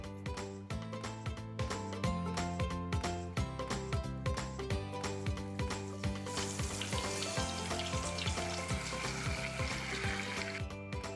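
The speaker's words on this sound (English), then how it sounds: "Fry the fish for about 5 minutes on each side." Lapu-Lapu fish fries in hot oil with a steady sizzle that swells in the second half, partly buried under loud rhythmic background music throughout.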